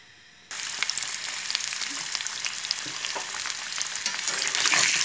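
After a brief quiet moment, potato and egg coated in red food colouring hit hot oil and burst into a dense, bright sizzle with crackling pops that builds slightly louder toward the end.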